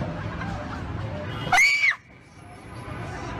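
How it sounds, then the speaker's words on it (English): A shrill scream erupts in a meme clip, a single piercing rising-then-falling cry lasting about half a second, loud and abrupt after muffled background noise, then cutting to quiet. "That scream though."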